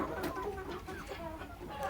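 Desi chickens cluck steadily on a poultry farm, several birds overlapping in a busy, continuous chatter with short higher calls, close and moderately loud.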